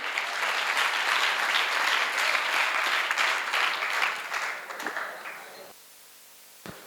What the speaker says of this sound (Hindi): तालियां बजा दीजिए, अच्छा उत्तर दिया।